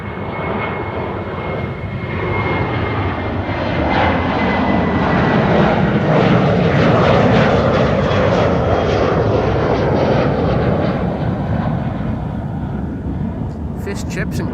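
A Transavia jet departs Amsterdam Schiphol bound for Pisa, its broad engine roar building to a loud sustained rumble and holding steady, with someone talking intermittently over it.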